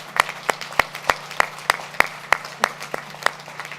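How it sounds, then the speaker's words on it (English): Applause at a Honda announcement event, heard as sharp, distinct claps in a steady, evenly spaced rhythm rather than a dense crowd roar. "you deserve a big round of applause"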